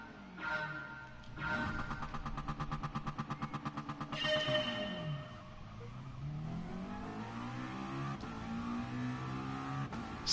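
Race car in a racing video game launching off the line, engine revving hard with rapid pulsing rev bursts, then climbing through gears as the pitch sweeps up and down, loud and close with no talk.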